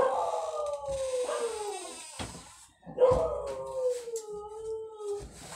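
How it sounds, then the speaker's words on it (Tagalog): A dog howls in two long, wavering calls close by, separated by a short pause, with faint yips mixed in. "Maingay yung aso."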